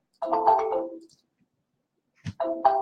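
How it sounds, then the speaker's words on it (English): An incoming call rings on a phone in two loud, close bursts of electronic ringtone separated by a short silence, with no talking. "So getting another phone call."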